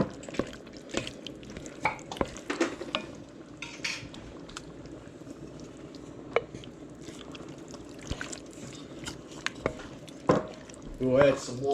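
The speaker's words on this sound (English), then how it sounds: "Let me give our pasta a stir." A utensil stirring pasta in a pot of salted water scrapes and clinks against the pot in scattered strokes, with a faint background hiss and a voice speaking at times.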